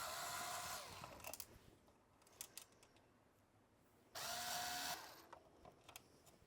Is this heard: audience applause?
no